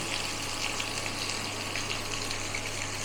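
Water is poured into chili chicken sauce to thin it. A steady, close gushing pour runs unbroken from start to finish.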